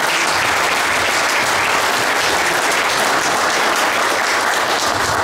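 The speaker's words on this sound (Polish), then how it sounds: "wielkie brawa dla pani." Applause from an audience at a patriotic congress fills the hall, loud, dense and continuous clapping throughout with no voices over it.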